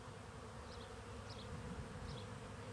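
Honey bees hum in a steady, close drone during a beehive inspection, a continuous buzz with a few higher, brief whines rising over it.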